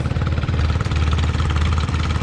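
An open station tractor engine runs steadily nearby while spraying in the heat, a loud low rumbling idle with a rapid rhythmic knock and vibration, continuous and alone without talk.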